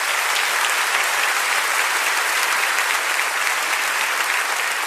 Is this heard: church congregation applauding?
yes